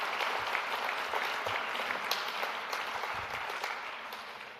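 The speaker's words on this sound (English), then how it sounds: "We can clap the hands." A graduation ceremony audience for an Executive MBA class applauds, with continuous, even clapping from many people at moderate distance, sustained for nearly five seconds and tapering slightly at the end.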